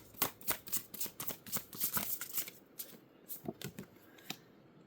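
A deck of oracle cards being shuffled by hand, close and fairly quiet: a string of crisp riffling flicks and soft slaps in uneven bursts, with no talking.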